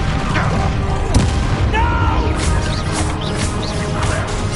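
A Bombarda blasting spell detonates in Hogwarts Legacy, a loud booming explosion with crackling debris over a dense, noisy battle background, with faint voices in the mix.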